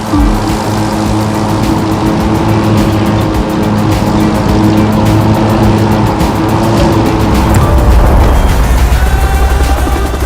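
A racing vehicle engine roars continuously in The Crew 2 video game, loud and sustained with a rumbling low end and a shift in tone near the end, and no voices.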